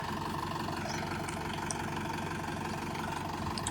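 Tractor ploughing a wet paddy field, its engine a steady mid-to-low drone at moderate distance, continuous and unbroken through the short stretch.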